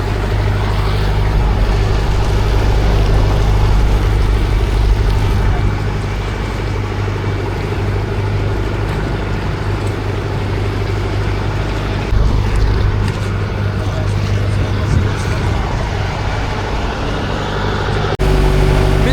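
A fishing boat's engine runs steadily as it nears the shore on a deep-sea shrimp trip off Mumbai, a loud, continuous low drone with water wash that holds throughout and drops briefly near the end.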